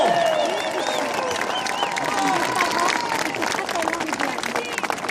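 Applause and crowd noise from an audience at a commemorative speech in Béziers, France, a steady dense wash of clapping lasting throughout with a murmur of voices mixed in.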